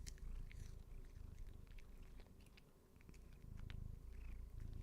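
A pet cat held in someone's arms purrs steadily and faintly while eating treats, a soft continuous rumble with small chewing clicks scattered over it and no talking.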